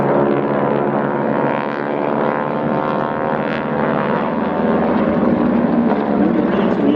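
Display aircraft, including a P40, flying a barrel roll in trail at the Wings Over Wairarapa airshow. A loud, continuous propeller-engine drone with a dense harmonic buzz holds steady throughout.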